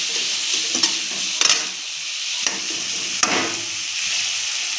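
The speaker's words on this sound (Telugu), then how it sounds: "కొంచెం పసుపు, కొంచెం గరం మసాలా, బాగా ఫ్రై చేసుకుందాం." Egg fried rice masala with turmeric and garam masala frying in a pan at home, a steady close sizzle broken by a few sharp scrapes and clinks of a spatula stirring through it, with no voices.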